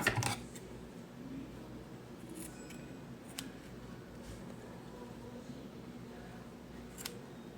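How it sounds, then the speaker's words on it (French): Scissors snipping the leftover yarn ends off a granny-square crochet bag, a few faint, brief clicks and snips scattered over a quiet background. "Maintenant, je vais couper les restes"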